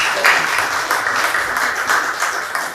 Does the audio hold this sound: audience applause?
yes